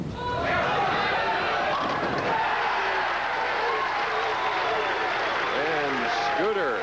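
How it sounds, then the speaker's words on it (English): Crowd at a 1988 PBA bowling tournament in New Orleans roars and applauds after a strike, a dense, sustained wash of cheering with a voice talking over it. "you'll hear them chanting "Scoot.""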